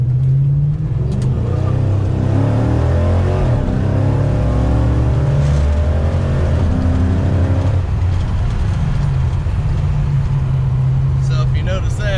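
A 1968 car with a 5.7 Hemi engine accelerating under throttle, its loud, close engine drone rising and shifting in pitch as it pulls through the gears, with someone talking over it.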